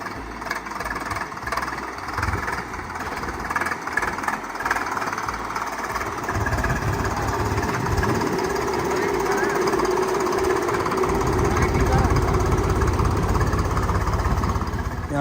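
Tractor engine running steadily while being driven on a farm plot, a loud, close, knocking chug that grows heavier toward the end, continuous throughout with no words.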